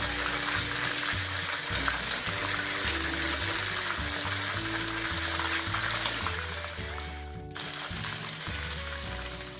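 Chicken fries in a pan with a continuous crackling sizzle, close and steady, with clinks and shifting sounds as the pieces are turned partway through.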